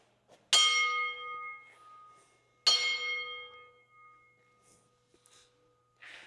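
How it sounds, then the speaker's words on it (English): Two loud metallic strikes of a signal bell in the old Sterling Hill zinc mine, each ringing out and fading slowly, with a few faint knocks and shuffles between and after. "The bell?"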